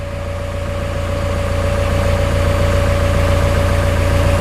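Diesel engine of a JCB 3DX backhoe loader running steadily while the boom swings to the right, a continuous close, loud idle-like drone with a steady hum and no talk.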